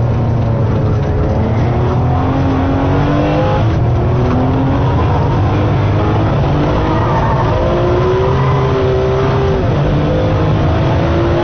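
A Ferrari 599 GTB Fiorano is driven hard on the Fiorano track. Its engine revs loud and close in long rising pulls and drops as gears change, with a steady roaring drone throughout.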